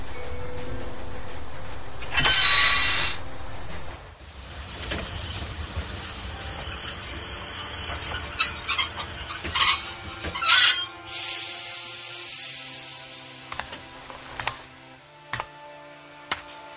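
Train from The Walking Dead video game running on the rails, with loud, high metallic wheel squeals in sharp bursts over a steady rumbling roll and scattered clanks, no voices.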